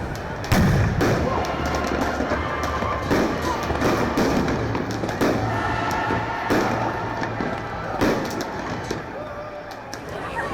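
Fireworks burst at a Chinese New Year celebration in Johannesburg, a dense, loud string of sharp cracks and thumps going on continuously, with voices underneath.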